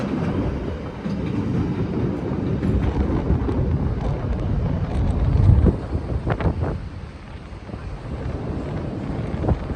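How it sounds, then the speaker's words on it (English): A CTA Brown Line elevated train pulls into Armitage station in Chicago with a broad rumbling roar and some wind buffeting, swelling midway and then easing off. No one speaks. "this is a brown line train making the stop here"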